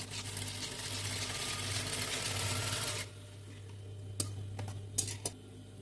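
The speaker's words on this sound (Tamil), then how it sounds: "ஸோ ஸ்டிச் பண்ணியாச்சு." A sewing machine stitching saree fabric runs steadily for about three seconds with a fast mechanical whir, then stops, leaving a few sharp clicks and taps; close and quiet, no voices.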